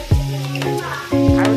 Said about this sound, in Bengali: এখানে আলুগুলো দেখো আমাদের আস্তে আস্তে লাল লাল করে ভাজা হচ্ছে।